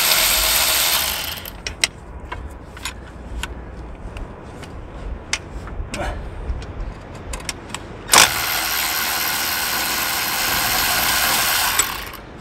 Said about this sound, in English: A little tiny ratchet.